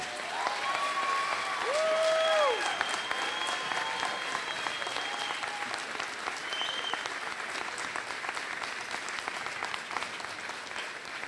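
MBA graduates at a 2017 university convocation give sustained applause in a large hall, a broad wash of many hands clapping at moderate distance, with faint background tones and murmurs beneath.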